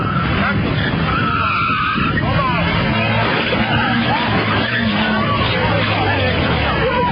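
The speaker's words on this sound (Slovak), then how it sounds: "V plnej rýchlosti narazila do prizerajúcich sa divákov." A car at a Miss Tuning driving show skids loudly at full speed and ploughs into watching spectators, with tyre noise and engine roar over a constant babble of crowd voices.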